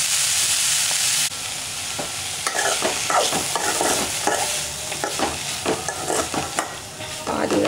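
Beans curry simmers and sizzles on low flame while a spoon repeatedly scrapes and stirs the pan, irregular close clacks over a soft frying hiss that drops after the first second, no voices.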